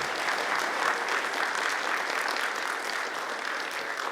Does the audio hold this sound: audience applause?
yes